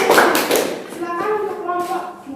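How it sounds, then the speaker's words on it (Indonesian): A classroom of students gives a student group a short burst of applause that fades quickly as a voice starts talking. "Beri tepuk tangan dulu untuk kelompok."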